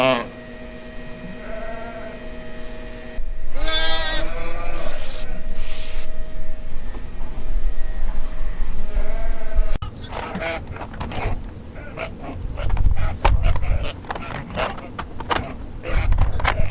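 Sheep bleating during winter lambing in Canada, several drawn-out calls up close among barn noises and rustling.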